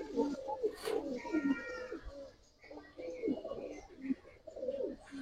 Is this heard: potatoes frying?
no